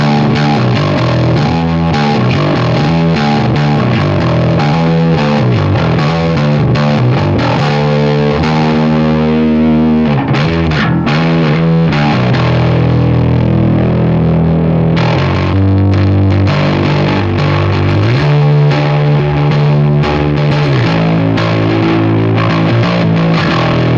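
Electric guitar driven through a DigiTech Bad Monkey tube overdrive pedal, loud and continuous with saturated distorted chords and sustained notes, playing alone without talk.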